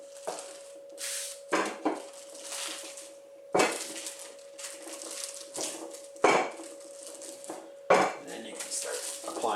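Tortilla dough rolled out with a rolling pin on a wooden surface, giving repeated rolling strokes with soft thuds and clacks every second or two, close by, over a steady background hum.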